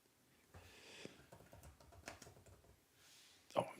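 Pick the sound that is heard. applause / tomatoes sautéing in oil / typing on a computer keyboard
typing on a computer keyboard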